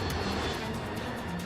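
The engines of an American Airlines airliner, Flight 191, roaring in a steady, loud, continuous rumble, with no voices.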